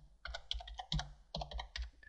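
A comment is typed into code on a computer keyboard: close, distinct key clacks come in short bursts with brief pauses between them.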